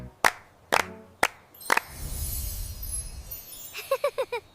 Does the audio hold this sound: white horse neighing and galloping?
no